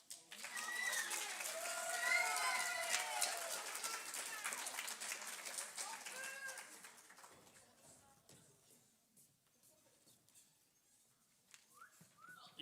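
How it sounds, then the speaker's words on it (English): Junior high awards audience claps for the 8th grade PE Student of the Year, a burst of applause with whistles and cheers that swells early, then fades to scattered claps and murmuring. "You can give him another round of applause if you'd like."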